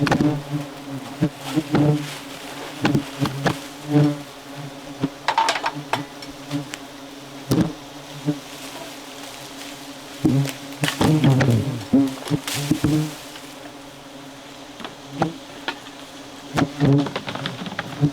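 A swarm of bald-faced hornets and yellow jackets around a nest buzzes close by, steady droning punctuated by repeated louder passes as individual insects zip near, with no talking.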